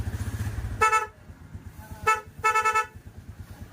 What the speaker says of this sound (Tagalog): Try mo busina.